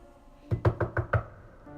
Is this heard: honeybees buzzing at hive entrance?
no